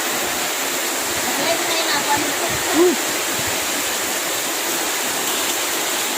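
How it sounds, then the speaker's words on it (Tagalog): Heavy typhoon rain pours in a steady, dense wash close by, with gusts of wind and a brief faint voice rising under the constant roar. "Dan kusog ang uwan."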